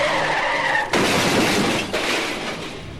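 Radio drama sound effect of a car skidding out of control up onto a sidewalk, a loud sustained tire screech with a sudden crash-like burst partway through, close and alone.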